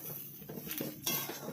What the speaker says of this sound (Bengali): চালগুলো যেহেতু অনেকগুলো চাল, ওর নাড়তে অসুবিধা হচ্ছে, তার জন্য আমি নেড়ে দিচ্ছি।